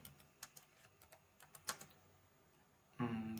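Clicky taps on a computer keyboard as someone types an SQL query, an uneven run of close keystrokes with short pauses, then a brief louder burst of noise at the end.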